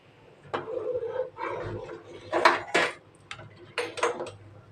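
A spoon stirs dal in a metal pot, giving several clustered scraping and clinking strokes against the sides, close and moderately loud with short pauses between.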